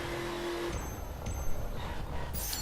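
A Chevrolet Corvette Stingray C7 (2014) in the racing game The Crew revs hard with a tonal engine whine, then shifts as nitro kicks in, with a rising hiss and a squeal near the end.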